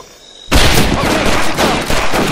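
Dense gunfire in the WWII shooter Medal of Honor Pacific Assault at Makin Atoll, a loud sustained burst of overlapping rifle and machine-gun shots erupting after a brief quiet lead-in, with pulsing volleys continuing to the end.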